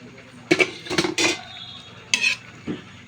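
Food stirred with a metal utensil in a pan after soy sauce is added, four or five clattering scrapes and clinks in quick uneven strokes, close and fairly loud.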